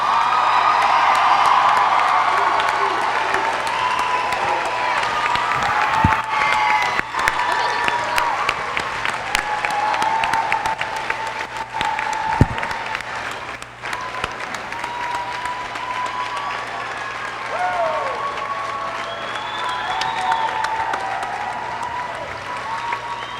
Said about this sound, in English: as they're making their applause there